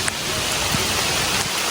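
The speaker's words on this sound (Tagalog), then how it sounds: "Napakalalaki naman po ng patak ng ulan." Heavy rain pours down outdoors near a small hut, a steady, dense hiss of large drops that fills the whole short stretch with no voices.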